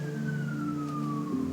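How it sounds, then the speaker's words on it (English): Emergency vehicle siren passing outside, a single steady tone slowly falling in pitch as it moves away, heard over a constant low hum. "Sirens are coming for us."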